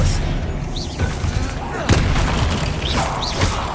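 Expelliarmus spell effects in Hogwarts Legacy combat: loud, close booming impacts and sharp bursts at irregular intervals over constant battle noise.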